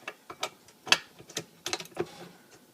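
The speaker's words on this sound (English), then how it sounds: "Make sure if you're using your KitchenAid mixer, pick your dough hook here." A dough hook being fitted onto a KitchenAid stand mixer, heard as a handful of sharp metallic clicks and taps spread unevenly over a couple of seconds, close and fairly faint, with no voices.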